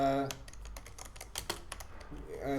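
Rapid clattering keystrokes on a computer keyboard while entering C code for a triangle-area program, a quick irregular run of clicks close by with no talk over it.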